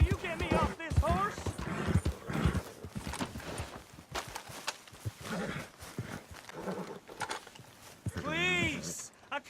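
Horse hooves clip-clopping in Red Dead Redemption 2, a steady rhythmic plodding running beneath frantic shouting voices, with a whinny near the end.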